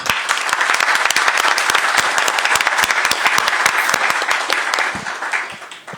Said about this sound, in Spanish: les pido un fuerte y caluroso aplauso